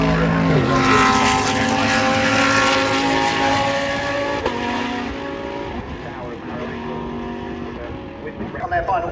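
GT race cars on their formation lap at Brands Hatch drone past in a loud, dense layer of engine notes that slowly fades, with a commentator's voice likely running over it.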